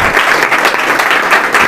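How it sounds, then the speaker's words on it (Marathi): Loud, vigorous applause from a classroom audience at an MPSC competitive-exam quiz in Latur, rewarding a correct answer; many hands clap in a dense, unbroken burst. "जोरदार टाळ्या होत्या"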